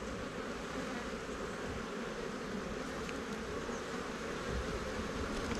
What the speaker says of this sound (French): beaucoup d'abeilles prêtes à naître